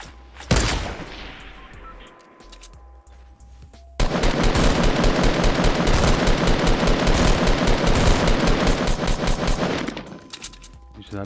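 Sustained automatic gunfire in a video game, loud and close: a burst near the start, then an unbroken rattling volley lasting about six seconds before it cuts out.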